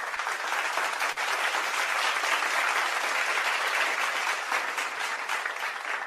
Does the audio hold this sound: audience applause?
yes